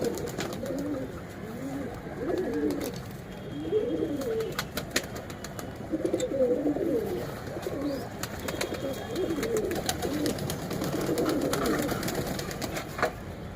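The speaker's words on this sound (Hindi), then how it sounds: "ऊपर देखो भाई बहुत सारे कबूतर इस समय उड़ने लग गए हैं" Pigeons flock and coo steadily around scattered bread, their soft repeated cooing filling the scene at close range with faint wing and outdoor noise beneath, no voices.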